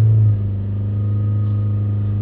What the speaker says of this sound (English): if we accelerate it up to 3000 RPM, try and hold it steady